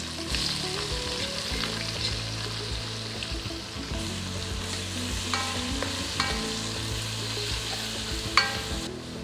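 Two large onions frying in hot oil with salt, giving a steady loud sizzle with occasional stirring scrapes and clinks.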